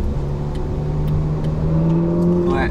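A Ferrari 458 Spider's V8 engine revs loud and close at low speed as its exhaust valves open, a steady rising roar with a whirring tone.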